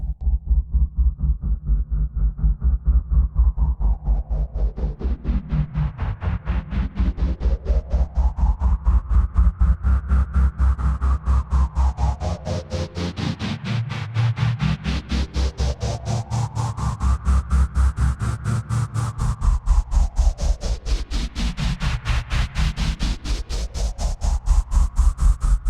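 A sustained synthesizer tone whose filter cutoff sweeps open and closed in slow repeating arcs under mod wheel control, with a pulsing, throbbing rhythm throughout and no voices.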